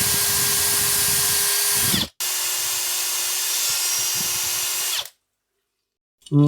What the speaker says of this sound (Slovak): tak si to skúsim priskrutkovať o tento čierny bakelit